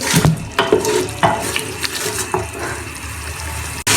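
Masala for aloo gobi fries in a pan while it is stirred, giving a close, wet sizzle with repeated scraping strokes and a short gap near the end.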